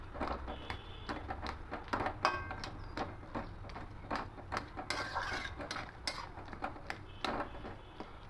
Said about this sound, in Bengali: এবার আলুগুলো একটু ঘেটে ঘেটে দেবো।